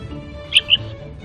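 Two short, bright bird chirps in quick succession stand out clearly over a faint, steady background hum.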